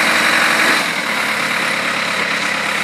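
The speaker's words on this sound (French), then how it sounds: "Donc c'est un tracteur." A tractor engine runs steadily at a boat launch, a constant close rumbling drone at an even level throughout, with no voices over it.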